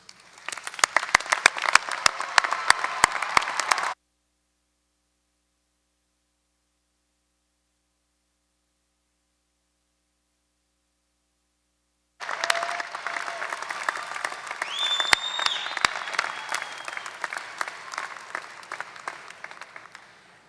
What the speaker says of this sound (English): Will the parents, grandparents, family, and friends please stand so that we can applaud you?